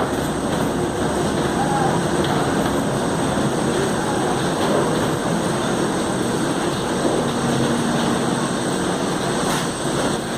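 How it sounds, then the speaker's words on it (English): A constant loud roar of an Airbus A380 jet airliner's engines, broadband and steady, with faint speech mixed underneath, heard in the rain. "Here's the A380. Big old plane."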